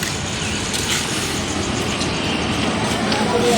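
Diamond Harbour to Sealdah local train pulling into a station platform, heard as a continuous broadband rumble and rolling roar at a steady loudness with no pauses.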